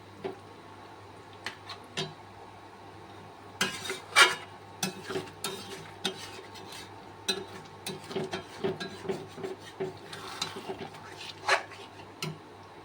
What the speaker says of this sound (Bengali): মাংস কষাতে কষাতে আলুগুলোও দিয়ে দিচ্ছি